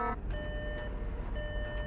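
Electronic alarm beeping in the video game Skibidi Toilet Multiverse: steady high-pitched tones in two sustained bursts separated by a short gap, loud over a low background rumble.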